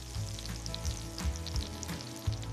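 Canadian bacon sizzles in a hot skillet, a steady close frying crackle with small pops and low scraping bumps, no voices.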